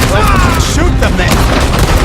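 Rapid gunfire and booms in a Red Dead Redemption 2 shootout, dense loud shots packed into a brief burst, with shouted voices mixed in.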